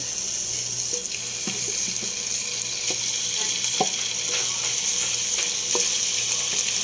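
Chicken frying in a pan, with a dense, steady sizzle that stays close and fairly loud and is broken by scattered sharp pops and crackles. Nobody speaks.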